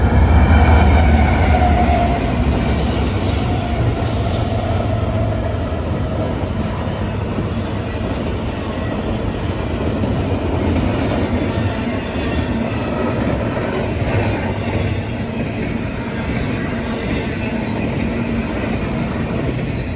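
BNSF freight train rolling past at Newberry Springs, a steady, loud, continuous rumble and rail roar held for the whole stretch without a break, with no voices.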